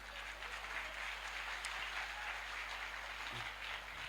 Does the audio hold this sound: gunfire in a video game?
no